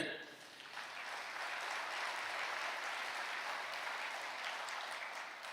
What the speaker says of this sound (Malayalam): ഒന്ന് കൈ ഉയർത്തി കൈയടിച്ച്